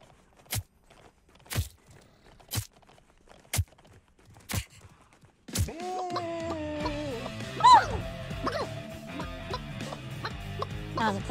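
Chickens cluck in a battle royale video game, entering after a run of evenly spaced, heavy footsteps; the clucks and warbling calls sit over a busy bed of game sounds.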